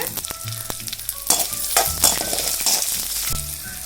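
Onions and urad dal sauté in a hot pan for smoked brinjal chutney, giving a loud, continuous sizzle with scraping stirs and clinks close by, and no talk.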